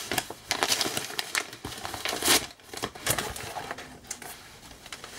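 Cardboard or paper packaging holding five books is torn and crumpled open, giving close, irregular bursts of ripping and crinkling with short pauses, and no talking over it.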